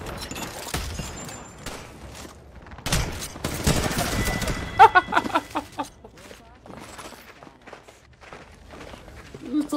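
Gunfire in a video game bursts in rapid bursts and volleys alongside running footsteps, loud and busy in the middle, with people talking over the action.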